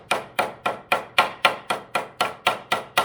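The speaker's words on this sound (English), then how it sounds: "Then just peen the end" A hammer peens the end of a metal piece for a landscape light fixture, striking in a steady run of about a dozen sharp, evenly spaced metallic blows, close and alone.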